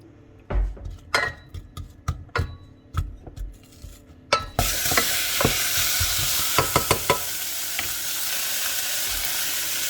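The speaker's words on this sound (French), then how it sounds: "Ici, je fais revenir l'ail et oignon ensemble, un petit peu l'huile d'olive." Garlic and onion frying together in a little olive oil after lardons are added: first sharp clinks and scrapes of a utensil against the pan, then a loud continuous sizzle with further stirring taps; no one speaks.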